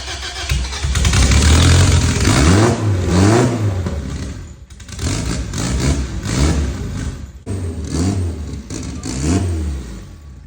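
A car engine with a freshly glued head gasket runs and revs in surges, loud and close, carrying a tangy, metallic note that may come from the turbo or the motor itself, with brief dips between pulls.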